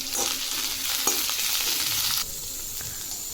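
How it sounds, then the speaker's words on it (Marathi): Fenugreek leaves sautéing in hot oil in a pan, a steady bright sizzle with a few scraping stirs, dropping to a quieter hiss partway through; no one talks. "ही मेथीची भाजी आपण"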